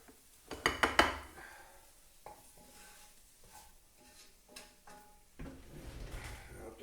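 A few sharp metal clinks of a utensil against a frying pan, followed by quieter scraping and stirring sounds as meatloaf mixture is moved into a bowl.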